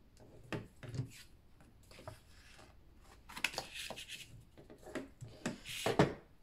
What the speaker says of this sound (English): now we can fold and burnish on our score lines